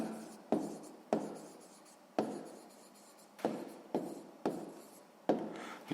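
Writing out an answer during a sixth-grade maths lesson: a run of about seven sharp, scratchy strokes at uneven intervals, each fading quickly, close and fairly quiet with no voice.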